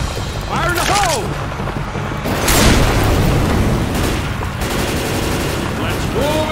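A grenade blast in Left 4 Dead 2 booms amid steady gunfire and loud game noise, with a burst of energy about two seconds in under continuing chaos and faint voices.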